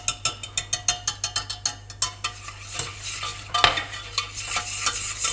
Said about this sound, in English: it's just a matter of keeping an eye on it and just constantly stirring it